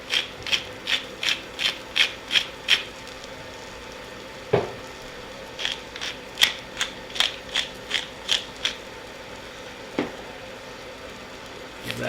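Cooked rice mixed with cumin and chipotle chili powder: a spoon scrapes through it in a quick series of regular, rhythmic strokes over a faint sizzle, with a few heavier clunks between the strokes.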